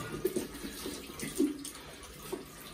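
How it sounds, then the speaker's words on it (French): Water runs from a tap while a shoe is rinsed under it, a steady close splashing flow with small gurgles and shifts as the shoe moves through the stream. "on y va pour le rinçage"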